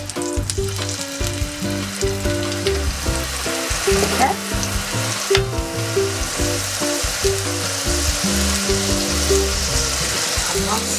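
A swordfish steak cut in half sizzles in a frying pan in a caravan kitchen. The constant crackling fry is close and loud, with stirring clatter and a brief spoken word over it.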